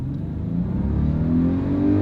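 New 2021 four-wheel-drive SUV accelerating from inside the cabin, a smooth, steady engine drone that rises gradually in pitch, with no voices.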